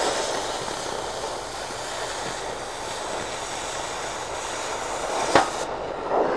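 An oxy-acetylene torch cutting metal gives off a steady, dense hiss and roar without a break, with a brief sharp crack near the end.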